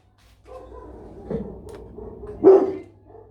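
A dog named Stephen barks once, fairly loud, toward the end, over low background rumble and some faint murmuring before it.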